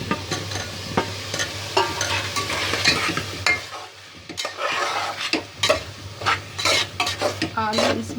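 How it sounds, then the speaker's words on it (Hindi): Minced meat sizzles in a pan with tomato as potatoes are tipped in, bursts of stirring and utensil scrapes over a steady fry, with a few sharp clatters against the pan. "इसको थोड़ा भून लेना चाहिए। और इसमें हम अभी डाल देते हैं आलू।"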